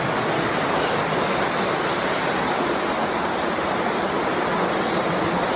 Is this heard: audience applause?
no